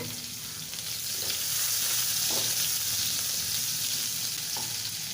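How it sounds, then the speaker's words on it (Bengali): Onion fries in hot oil in a pan with a continuous bright sizzle, and a few soft spatula stirs are faintly audible beneath the steady crackle. "একটি তেলে দিয়ে দেব হচ্ছে পেঁয়াজ পেঁয়াজটাকে ভেজে নেব"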